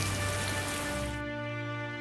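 Rain and storm in a Hindi cartoon story: a dense, steady rain hiss fills the first second or so, then cuts off abruptly, leaving a sustained tonal hum with no voices.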